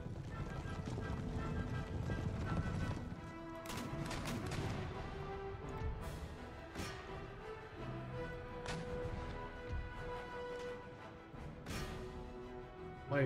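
Horse grenadier cavalry galloping in an Empire Total War battle, a steady rumble of hoofbeats mixed with scattered musket cracks and occasional whinnies, continuous and moderately loud with faint talk underneath.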